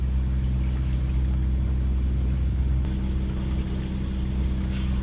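A sailboat's engine drones low and steady throughout, loud and unchanging, with a faint hiss of water over it in a light following swell off Corsica.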